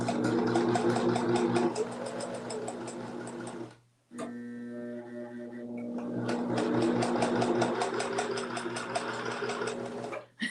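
A sewing machine stitches fabric with a fast, even mechanical patter, stopping briefly and then running again in close, steady bursts.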